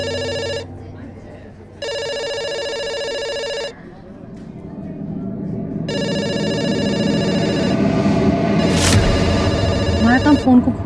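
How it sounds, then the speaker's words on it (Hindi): An electronic telephone in a pizza shop rings in repeated bursts with pauses between, loud and close, then a rising noisy background with some rustling at the end. "काम फोन को घूरना नहीं, फोन उठा के ऑर्डर लेना।"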